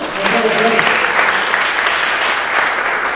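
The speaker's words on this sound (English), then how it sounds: "Give them a round of applause." Steady, dense applause from a sizable audience fills the space, loud and continuous throughout with no pauses.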